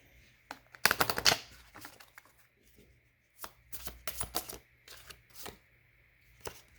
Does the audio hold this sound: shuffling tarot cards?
yes